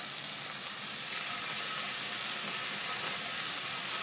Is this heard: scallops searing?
yes